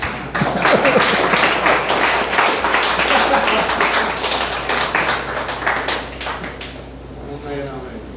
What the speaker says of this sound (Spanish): Ahora si quieren aplaudir.